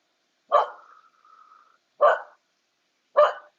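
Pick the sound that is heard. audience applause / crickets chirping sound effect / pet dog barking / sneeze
pet dog barking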